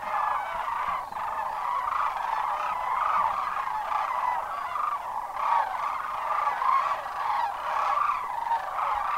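A large flock of migrating cranes calls continuously at a pond in Arizona on a January evening, a dense chorus of overlapping trumpeting and honking cries that stays steady and moderately loud throughout.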